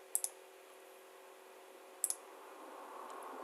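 Two pairs of quick, crisp key clicks sound from a computer keyboard during work in CAD software, spaced about two seconds apart, faint and close against a quiet room.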